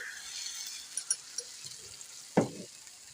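Water poured into a hot pan of beef, a sudden sizzling splash rising out of a quiet kitchen background with a few small clinks before it.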